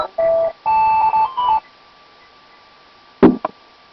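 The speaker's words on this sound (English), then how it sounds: "Sorry guys, that's my phone." A mobile phone rings nearby, two short bursts of electronic tones, then a brief silence and a couple of sharp knocks or handling clunks.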